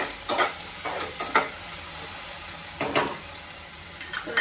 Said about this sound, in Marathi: बटाटा आपल्याला असा छान शिजेपर्यंत त्याला फ्राय असं हलवून हलवून आपल्याला फ्राय करून घ्यायचं आहे